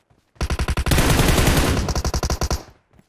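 Rapid bursts of video game gunfire, a steady automatic rattle that thickens into a dense volley before breaking back into distinct quick shots; loud and close.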